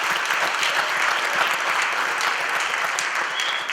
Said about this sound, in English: So a huge round of applause from them all.